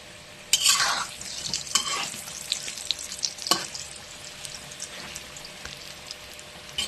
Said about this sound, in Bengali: এই যে বন্ধুরা আলু লাল করে ভাজা হয়ে গেছে